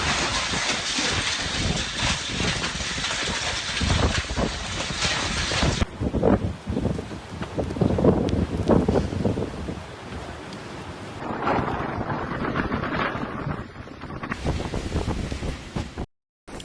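Strong wind of a severe storm in Izmir or Antalya, Turkey, roars and buffets the microphone in loud, continuous gusts, with broadband rumbling surges that swell and ease throughout.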